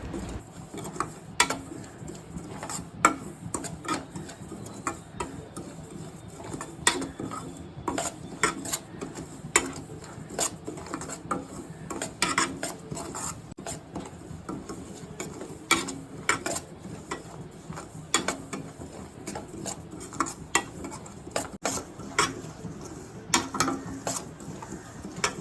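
Semolina (rava) is dry-roasted in a pan while a spoon stirs it, producing irregular close clicks, taps and light scrapes against the metal that continue steadily without any talking.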